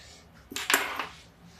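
A spoon scrapes and clinks against a hot kadhai while stirring a pistachio and almond ladoo mixture, making a short cluster of metallic scraping in the middle of an otherwise quiet kitchen.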